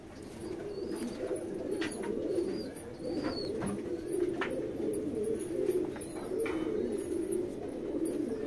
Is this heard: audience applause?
no